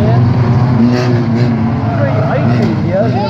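Race cars on the Aldershot Raceway circuit roar continuously with rising and falling engine pitch, loud and steady, while a commentator talks over the top throughout.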